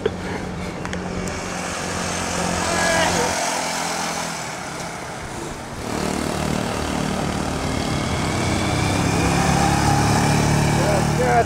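A cheap $125 motorbike engine runs steadily with a buzzing drone that shifts in pitch as it revs, loud and continuous against street noise.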